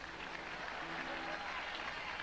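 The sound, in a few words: audience applause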